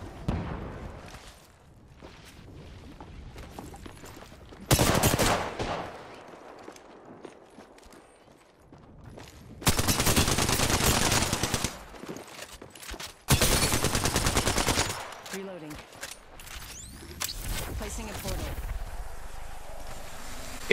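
Gunfire in a shooter video game, with loud bursts of shots arriving in several separate clusters between quieter stretches, and faint voice chat underneath.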